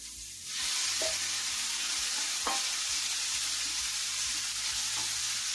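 Ground meat hits a pan with garlic and frying takes off as a continuous sizzle after a brief quiet start, broken by a few distinct utensil scrapes and taps.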